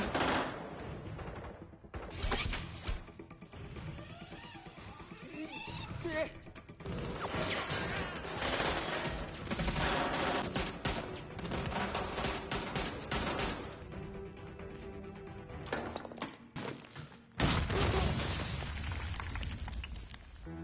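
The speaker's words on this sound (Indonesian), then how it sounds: "Setelah melewati baku tembak," Gunfire during a shootout in the 2022 film Yaksha: Ruthless Operations: bursts of rapid shots and crashes that come and go over a dense action soundtrack, with loud breaks near the start and toward the end.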